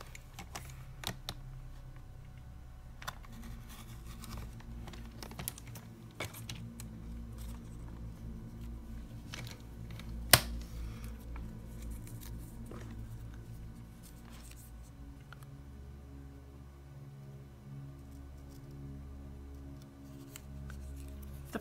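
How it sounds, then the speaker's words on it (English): Scissors snip a paper T for an electronic glowing-eyes card, heard as quiet, irregular crisp clicks and cuts at close range against a faint low background hum, with one sharper snap in the middle. "You can just bring your scissors in to help you finish that off to cut your T."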